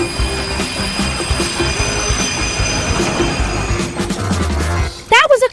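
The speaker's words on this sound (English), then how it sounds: "Stop the train!" Video-game train wheels squeal under braking, a sustained metallic screech over rumbling rail noise, with short tonal chirps near the end and no speech.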